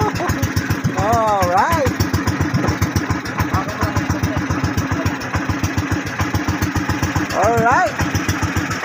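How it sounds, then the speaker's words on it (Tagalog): A boat's motor at sea off Bolinao chugs in a fast, steady rhythm close by, running throughout while people shout excitedly over it. "At tagal-tagal namin sa gitna ng dagat. Nabuhay din yung makina."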